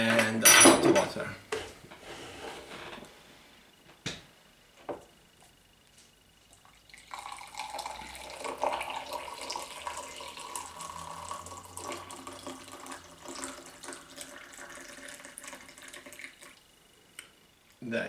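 Hot water poured for a cup of original Lipton tea, a steady running, splashing pour lasting several seconds after some brief handling clatter, fairly close and moderately quiet.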